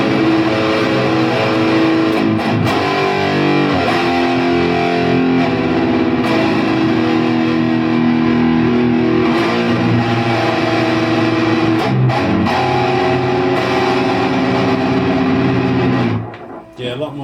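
An electric guitar through a TS9/TS808-style overdrive pedal plays loud, distorted sustained chords and notes, buzzing and ringing steadily before cutting off near the end.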